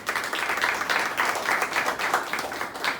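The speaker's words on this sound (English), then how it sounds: "please give her a round of applause because she has a dynamic story as well" An audience at a cardiac arrest awareness event breaks into steady applause, a dense even patter of many hands clapping that fills the moment without pause.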